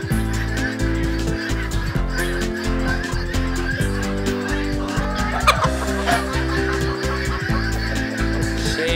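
Farm geese and fowl at a restaurant's farm in Pattaya honk and cluck steadily and loudly throughout, a dense overlapping chorus of birds close by with no talk.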